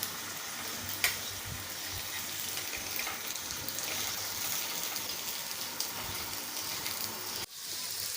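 Round potato slices for a crispy spicy veg fish fry sizzle in a pan with a steady, moderate hiss, punctuated by a few soft knocks as the slices are turned, with a brief dip near the end.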